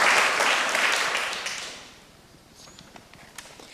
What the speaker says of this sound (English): clap for the Code of Conduct team